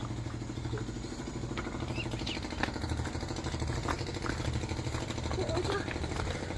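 A motor boat's engine drones and chugs steadily at mid pitch throughout, with faint voices and clatter mixed in.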